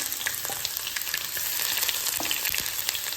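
Ginger frying in hot sesame oil after mustard seeds, a dense steady close sizzle with light crackles and occasional stirring scrapes, no voices.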